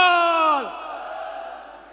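A Sikh jakara rally cry: one loud drawn-out shout falls away into a diffuse roar from a large crowd answering together, fading over a second or so.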